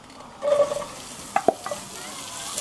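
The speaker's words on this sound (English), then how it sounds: "add in our chorizo and give them a bit of a fry for about 5 minutes" Chorizo hitting a hot Dutch oven, with a brief sizzle and a couple of sharp clinks from stirring, moderately close with no talking.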